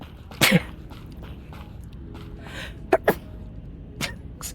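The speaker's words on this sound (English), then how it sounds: "That's where the sneeze finally was." A single sharp human sneeze bursts out close to the microphone, followed by a few quieter short throat and breath sounds in an otherwise quiet room.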